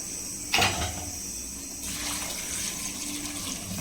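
Water pours steadily into a pot with a gushing, splashing rush, starting with a brief louder splash and continuing as a constant stream.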